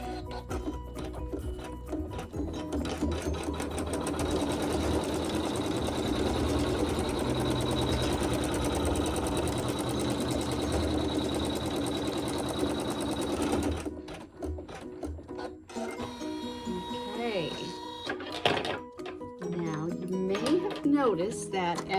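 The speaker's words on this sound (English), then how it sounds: "Now the machine will do a tack down to hold all the little ends of the fabric in place" Computerized embroidery machine running steadily as it stitches a tack-down over fabric pieces, a continuous rapid mechanical whir that stops partway, followed by quieter handling noises and a voice speaking.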